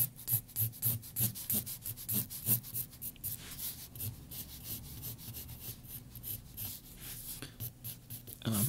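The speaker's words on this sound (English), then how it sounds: "I'm just going to sketch a little bit." Graphite pencil lightly sketching loose outlines on paper, a close, steady scratchy rubbing with repeated short strokes and no talk.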